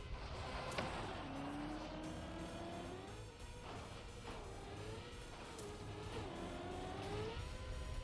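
Racing video game car engine, a steady sustained drone with rising and falling pitch sweeps as it revs through gears, loud and continuous throughout with no talking.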